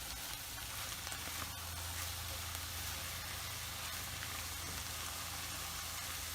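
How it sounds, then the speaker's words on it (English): Onions and mushrooms sauté in a pan with balsamic vinegar, giving a continuous, even sizzling hiss close by with no talking. "cook it up a little bit more, let those onions completely soften"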